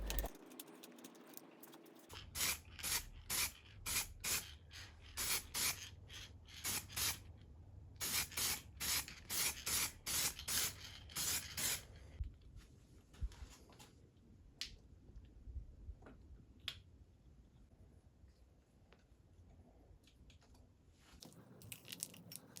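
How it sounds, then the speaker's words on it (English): Glossy black spray paint hisses onto a rusty Decathlon BTwin mountain bike frame during restoration, in a quick series of short close bursts followed by quieter handling and rubbing sounds. "painting by glossy black spray paint."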